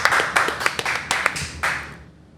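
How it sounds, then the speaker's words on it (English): Hands clap in a quick, uneven burst of sharp claps from a few people close by during a podcast recording, fading out near the end. "Clap it up. Clap it up."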